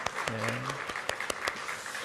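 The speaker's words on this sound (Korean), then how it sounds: "우리 박수로 환영하도록 하겠습니다" A church congregation at a Korean Sunday service in Tashkent applauds to welcome a guest, a burst of dense clapping with a few sharper claps standing out, and a voice briefly sounding beneath it.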